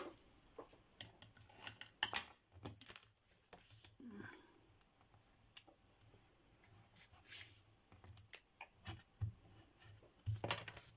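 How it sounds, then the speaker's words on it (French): Scissors snip through patterned paper for a handmade tropical card, quiet close crisp cuts in scattered bursts with soft handling noises between them. "Mes ciseaux."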